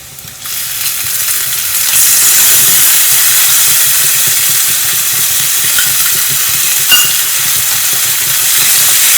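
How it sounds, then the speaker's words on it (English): Two chopped tomatoes frying with okra in a pan, a loud, steady sizzle and hiss that swells after a moment and holds evenly, close up, with faint stirring clicks. "Now we'll add in 2 chopped tomatoes."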